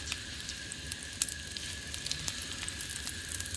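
Soft, steady sizzling of onion and garlic frying in hot oil, with faint crackles and pops throughout, no voices.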